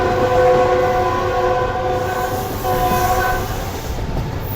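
A Subak Raftar railcar train running along a branch line toward Wazirabad, its engine and wheels giving a steady, loud rumble with sustained tonal drone throughout, heard from on board.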